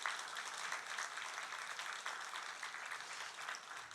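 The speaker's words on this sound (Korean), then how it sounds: "박수로 격려하십시다." A church congregation applauds in a large hall, a steady, dense round of clapping that carries evenly from start to finish.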